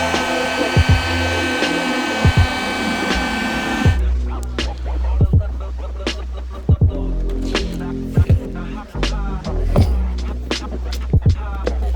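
Loud whirring blast of a heat tool warming the sealant on a Honda Accord projector headlight housing, running for about four seconds, then stopping and giving way to scattered knocks and clicks of handling the housing.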